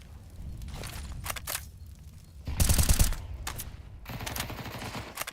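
Rapid bursts of automatic gunfire spray through smoke during a competitive Counter-Strike esports match, with a loud sustained volley in the middle flanked by shorter staccato bursts.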